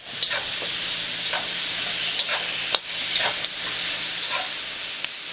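Shrimp sizzling in a hot pan during a vegetable stir fry, a steady loud hissing fry with occasional sharp clicks and scrapes of stirring, no talking.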